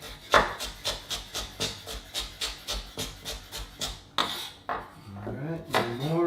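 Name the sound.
knife chopping carrots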